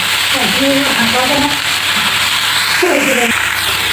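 Onion stalks, carrot and other vegetables sizzle steadily in a pan for a mixed vegetable chorchori, a constant close frying hiss with a voice talking over it.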